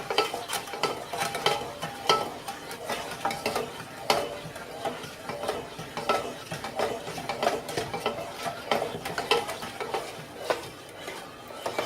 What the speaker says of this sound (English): So, trying to get the sugar dissolved.